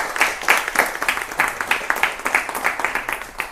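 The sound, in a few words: audience applause passing a resolution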